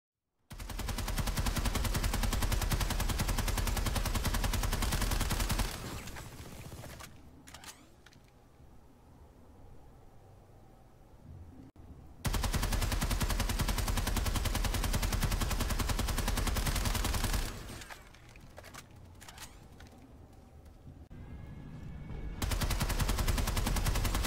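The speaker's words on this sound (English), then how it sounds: "see what the hip fire on this weapon looks like, with and without a laser sight, and what the recoil on this weapon looks like" Sustained automatic bursts from the NS-15M gun in the shooter game Planetside 2, two long loud stretches of continuous fire separated by quieter gaps, with a final burst starting at the end.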